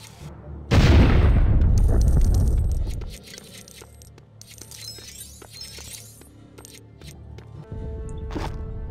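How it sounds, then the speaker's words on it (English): Dynamite blows up a fancy door in LEGO City Undercover with a sudden loud blast and a crashing, shattering rumble that fades over about two seconds. Scattered clicks, chimes and game sounds follow. "Blow up this fancy door."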